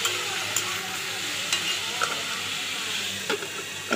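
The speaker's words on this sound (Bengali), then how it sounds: "ওর মধ্যে আলু কুচিটাও দিয়ে নুন দিয়ে আবারও ভালো করে কিছুক্ষণ নেড়ে নেব" Chopped potatoes with salt fry in a pan, sizzling loud and close under repeated scraping strokes of stirring.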